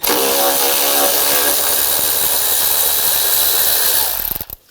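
A socket ratchet or power driver backs a screw out on a 2007-2013 BMW X5, a loud continuous mechanical whir close by that cuts off abruptly near the end, no voices.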